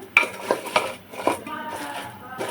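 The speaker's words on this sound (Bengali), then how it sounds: "লাকড়ির সাহায্যে আমি ভালো করে নেহারিটাকে এভাবে একটু মিশিয়ে নিচ্ছি মশলার সঙ্গে" A wooden stick stirs a pot of beef trotter nehari with garlic paste and spices, giving a few sharp clinks and scrapes against the pot at an uneven rhythm, with a soft low rumble underneath.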